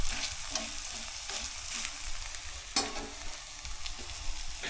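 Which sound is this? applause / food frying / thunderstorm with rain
food frying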